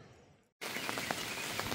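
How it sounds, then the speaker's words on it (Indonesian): A light early-morning drizzle falls at a hillside campground in Karangasem, Bali, a steady soft hiss of fine rain after a brief moment of silence. "Tadi pagi jam 4 gerimisnya sudah mulai datang."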